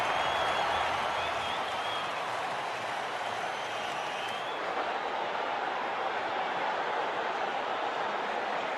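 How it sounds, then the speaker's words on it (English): A stadium crowd in the WCC3 cricket video game roars after a big shot, a dense, steady wash of cheering and applause that holds at an even level throughout, with no one talking. "Crowd's gone mad."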